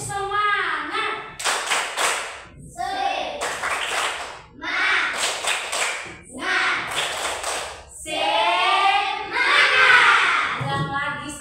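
A school class doing a rhythmic spirit clap, bursts of patterned group clapping alternating with the teacher's and pupils' loud chanting voices, close and lively.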